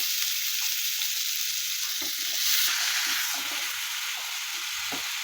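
Ground spices with cumin powder frying in oil and being stirred, a close, steady sizzle with occasional soft scraping stir strokes.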